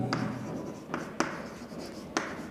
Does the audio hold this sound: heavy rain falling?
no